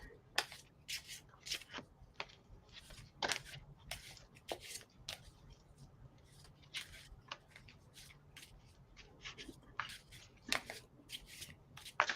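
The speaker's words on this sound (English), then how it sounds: "I think the cards are getting tired. They don't want to shuffle." Tarot cards are shuffled by hand in repeated crisp riffling bursts and soft slaps, close and quiet, with irregular pauses between shuffles.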